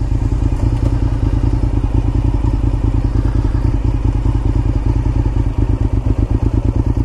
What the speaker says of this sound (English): Nice feeling V-twin.